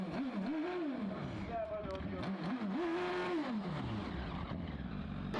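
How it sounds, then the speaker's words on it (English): A 1585cc GWR Raptor 2 race car climbs a hillclimb course, its engine revving and shifting through rising and falling pitches at close range, with a commentator talking over it. "Richard Spedding has a 1585cc GWR Raptor 2."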